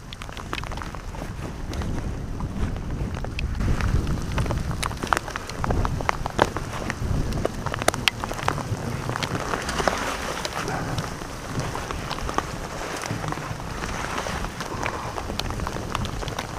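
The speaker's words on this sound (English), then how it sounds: "Given the camera-unfriendly torrential rain" Torrential rain pours down during a KTM 790/1190 motorcycle trip in an Iberian thunderstorm, a dense, steady hiss of heavy drops with scattered sharp patters and wind throughout, loud and with no talk.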